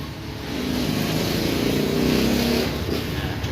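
A Honda Beat version 2 scooter with an idle that rises and drops starts up and revs. The engine note climbs, holds at a steady hum, then eases off, close by.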